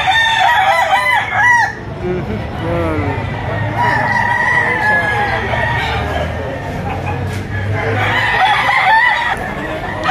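Several stag roosters crowing repeatedly at a busy poultry market in Lipa, Batangas, loud overlapping calls with clucking and crowd murmur, voices talking beneath.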